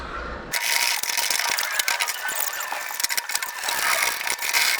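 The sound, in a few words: ratchet tightening VW Baja Bug seat bolts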